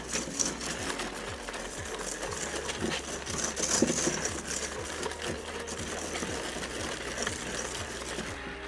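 An electric hand mixer whirs steadily while beating keto tiramisu batter in a bowl, a close continuous motor buzz with faint rhythmic knocks from the beaters, with no talk over it.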